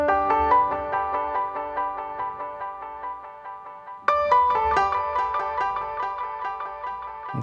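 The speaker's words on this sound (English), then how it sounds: "And then we turn the delay on." Piano notes played through a delay effect in a worship setting, repeating tones stacking into echoing trails, with a fresh attack near the middle restarting the cascade, loud and steady without talk.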